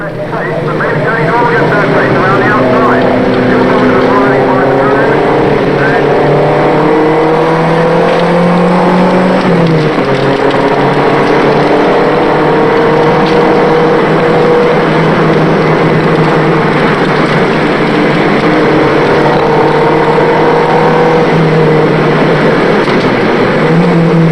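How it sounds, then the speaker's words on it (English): Onboard engine roar of a Saab Turbo race car at Donington during a one-make Saab Turbo Mobil Challenge race, loud and continuous with rising and falling tones through gear changes, a voice talking over it. "At Donington, we had a camera mounted in Simon Butler's car"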